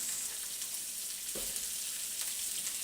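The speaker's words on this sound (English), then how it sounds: "we're gonna throw in our onions" Onions hitting hot oil in a pan while chicken noodle soup is being started, giving a steady, fairly quiet broadband sizzle throughout, with one brief low clunk near the middle.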